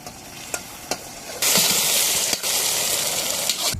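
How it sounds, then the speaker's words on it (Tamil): Onions, mint and curry leaves fry in a pot over a village cooking fire, giving a steady loud sizzle. A few scraping stirs come first, then the hiss surges as the leaves go in, with more stirring knocks under it. "அதோட சேர்த்து கொஞ்சமா கருவேப்பிலையும் போட்டுக்குவோம்."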